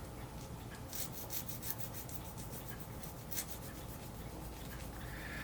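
A narrow, wide or round hand file scrapes across a model ship part in steady, faint rubbing strokes, with soft rasping passes repeating at an even rhythm close by.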